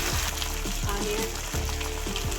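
Chopped onion sizzles in hot oil with peanuts, chana dal, urad dal, cumin, mustard seeds and dried red chillies for lemon rice, a steady close crackle with soft stirring scrapes repeating through it.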